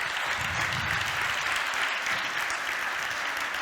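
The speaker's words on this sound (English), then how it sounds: "So please, big applause for both for Veronika and her innovation" Conference audience at the Velvet Innovation Conference 2023 breaks into steady applause, a dense, even roar of many hands clapping throughout, heard alone without speech.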